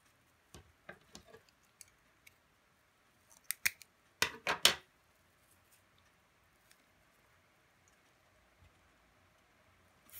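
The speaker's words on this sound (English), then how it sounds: "Take a black pipe cleaner and cut it in half." Scissors snip a black pipe cleaner in half for spider legs on an egg-carton Halloween craft, giving a few quiet scattered clicks and then two or three sharp, close cuts, with near silence around them.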